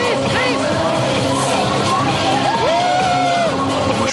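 A dense party crowd cheering and whooping, with loud overlapping voices and chatter filling the space throughout.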